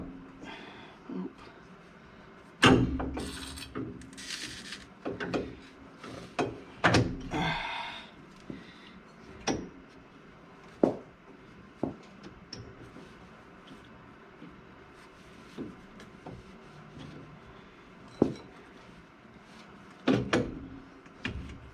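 Someone works to compress the lower suspension part on a car's front end during a rebuild, producing scattered metallic clunks, thuds and scrapes of varying loudness, close by, with pauses between bursts and a little talk.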